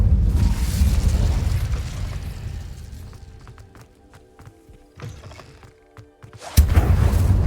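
Incendio fire spell cast in Hogwarts Legacy, a loud rushing whoosh of flame that fades into quieter crackles and ticks, then a sharp burst near the end.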